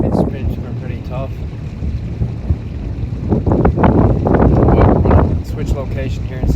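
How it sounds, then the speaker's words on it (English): Strong wind gusts on a lake during a fishing trip batter the microphone with loud, rumbling buffets. Someone talks over the roar while the gusts swell and fade. "it's so windy I can't control"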